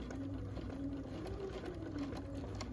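A sewing machine with a small stitch length runs steadily while stitching a paper-pieced quilt block, giving a continuous close whirring hum with a fast regular needle rhythm, quiet and alone.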